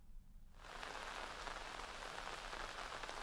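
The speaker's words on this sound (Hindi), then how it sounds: "आधे से ज्यादा उत्तराखंड में भारी बारिश हो रही है और ये मंजर अभी भी लगातार जारी है।" Heavy monsoon rain in Uttarakhand comes on suddenly and then holds as a dense, steady hiss of drops on surfaces. No one speaks over it.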